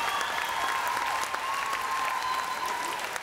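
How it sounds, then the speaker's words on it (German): Steady, dense applause from the audience at a children's contest finale fills the room, loud and continuous, with a faint tonal whine running beneath the clapping. "dein Applaus, nicht schlecht"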